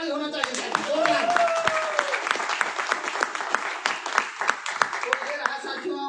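An audience at a farmers' product meeting claps loudly, a rippling burst of applause that carries on for several seconds, with a voice heard briefly at the start.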